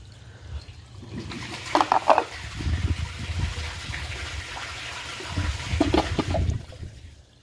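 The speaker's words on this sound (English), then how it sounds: "let's try flushing a washcloth again" A toilet flushing, a flow of water that swells, gushes and trickles on for several seconds, fairly close and alone, with a second surge of water near the end.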